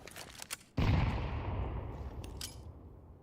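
A grenade blast in a video game: a few quick clicks, then one loud, sudden explosion that rolls out into a long, rumbling decay, with faint metallic clinks near the end.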